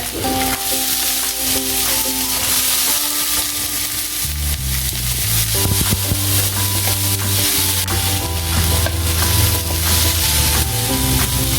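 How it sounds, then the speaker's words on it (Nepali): Onions fry loudly in a pan for a Nepali onion kachori filling, a dense continuous sizzle with occasional stirring scrapes, heard under steady background music. "यो प्याजलाई राम्रोसँग भुट्नुपर्छ।"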